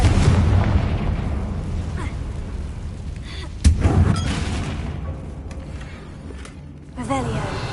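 A Confringo explosion spell in a Harry Potter video game goes off as a single sharp, booming burst midway, set against steady game ambience and a voice speaking.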